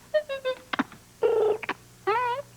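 Bell Telephone long-distance call imitated by a voice, mimicking a dialing or ringing phone tone: three short pitched beeps, a pair of clicks, a longer buzzy tone, more clicks, then a final wavering tone, loud and alone.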